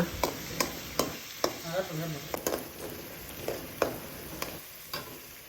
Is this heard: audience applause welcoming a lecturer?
no